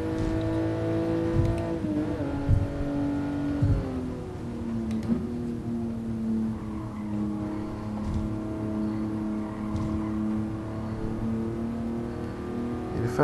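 A 1967 Toyota 2000GT engine hums steadily in Gran Turismo Sport while the car climbs a slope in VR. The tone holds close and constant, dipping briefly as it shifts, then settles into a smooth, sustained drone with no voices.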